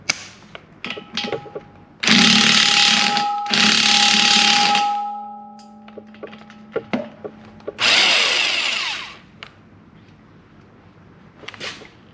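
An impact-style power tool loosens the tooth bolts on a Prinoth M450e-900 mulcher in three loud bursts of whirring, rattling hammering, with a tonal whine, separated by close clanks and handling noises.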